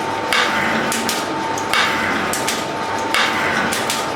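A metal shaper machine runs in a workshop. Its ram makes evenly spaced clunking strokes about every three-quarters of a second over a steady mechanical hum, with no talking.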